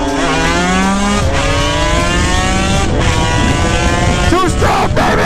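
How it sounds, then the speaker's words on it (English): Two 250cc motorcycles, one 2-stroke and one 4-stroke, racing side by side: loud close engines revving up through rising gears with wind noise, and voices shouting over them. "Yeah, let's race. 2-stroke versus 4-stroke."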